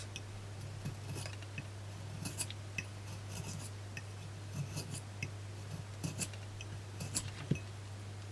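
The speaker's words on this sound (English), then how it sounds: "I'm using my X-Acto knife to get it off." Faint, scattered scratchy clicks come from an X-Acto knife scraping labels off a mini Christmas tree, irregular and close, over a steady low hum.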